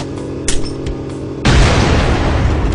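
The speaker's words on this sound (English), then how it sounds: "He took one of the grenades and, holding it securely in his left hand, pulled the pin." A grenade going off inside a truck cab, a sudden heavy boom breaking in after a low engine-like rumble, followed by a sustained loud roaring blast that carries on to the end.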